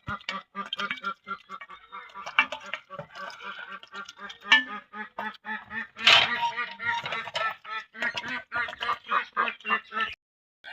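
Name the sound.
ducks quacking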